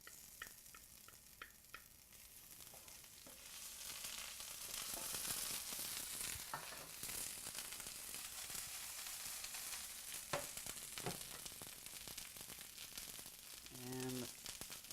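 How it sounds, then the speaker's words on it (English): Ginger and shrimp sizzling in hot oil in a pan, a steady loud frying hiss with stirring clatter, a few clicks at the start and a brief tonal beep near the end. "now as that is working, I'm going to begin to cook our shrimp. So we're going to add our ginger."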